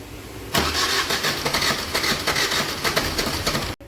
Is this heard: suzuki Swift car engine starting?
yes